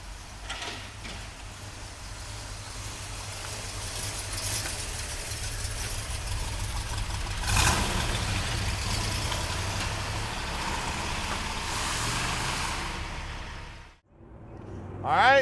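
A 1965 Pontiac GTO convertible with a four-speed and dual quads idles nearby, a steady low engine rumble with a brief swell midway, then a sudden drop and a clatter at the end.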